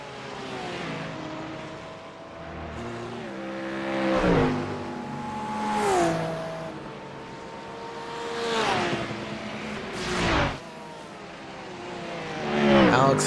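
A Ford Mustang race car at Bathurst passes by several times, engine rising and falling in swelling roars as it goes past, heard under a commentator's steady talk.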